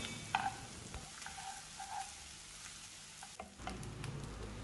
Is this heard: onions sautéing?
yes